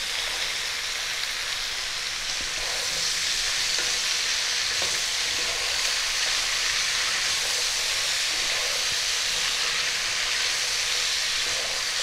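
Green beans and peas sizzle steadily in a hot pan for a Bengali tangy vegetable dalna, a constant close frying hiss with faint stirring scrapes and no voices.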